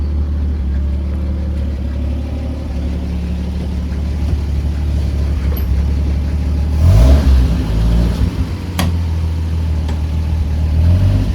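A 1954 Metro car engine runs steadily nearby, loud and continuous, then revs up briefly midway with a rising roar before settling back to a steady run, with no voices.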